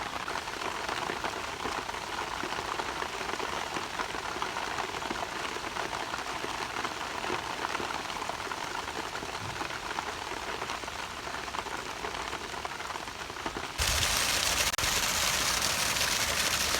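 Heavy unseasonal rain pours down on Porbandar farmland, a dense and steady hiss that grows louder near the end.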